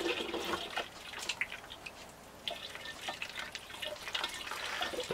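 Hot sugary wort for home-brewed beer poured through a funnel into a fermenting container, a steady splashing, trickling flow with irregular drips and gurgles, close up and with no talk.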